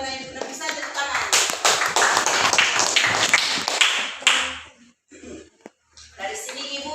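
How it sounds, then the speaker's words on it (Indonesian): A burst of clapping from a small group in a classroom, close and lively, fading out after a few seconds into quiet with a voice speaking. "Bisa tepuk tangan"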